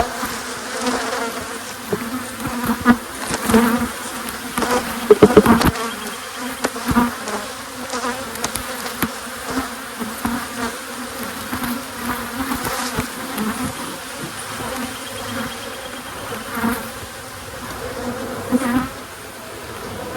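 Honey bees buzzing around an open hive during swarm-control work, a dense continuous hum with individual bees droning close past, steady and fairly loud throughout.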